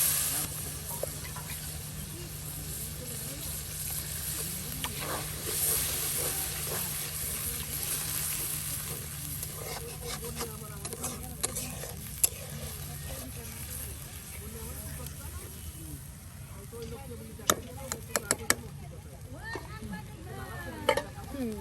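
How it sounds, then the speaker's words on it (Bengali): Bengali spice paste (masala) sizzling and being stirred in a pan while cooking beef with papaya by a riverside, a steady fry hiss with scraping strokes and occasional clinks, voices talking over it throughout. "মশলাটা কত সুন্দর করে কিন্তু কষানো হচ্ছে"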